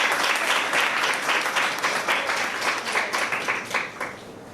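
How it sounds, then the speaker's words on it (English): An audience at a college conference applauds the students, a dense round of clapping that starts full and loud, then gradually thins and softens over a few seconds. "Give a round of applause for them."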